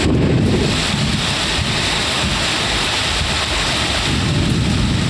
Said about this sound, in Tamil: மாவட்டத்தின் பெரும்பாலான பகுதிகளில் கனமழை பெய்தது.